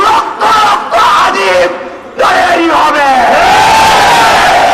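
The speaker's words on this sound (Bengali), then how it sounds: "বিক্ষোভে ফেটে পড়ে ছাত্র জনতা।" A crowd of students and members of the public protesting in Chattogram, roaring and chanting together in loud, wavering shouts, near and dense, with brief dips between surges of yelling.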